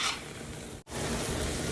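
Scrambled eggs cooking in a skillet give a steady soft sizzle, with a brief drop to near silence midway before the sizzle resumes.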